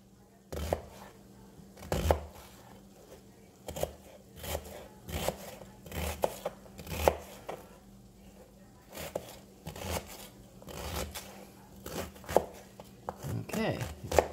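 A knife chops an onion on a cutting board in a home kitchen, with irregular, close, sharp knocks and scrapes spread across the passage. Faint speech comes between the cuts.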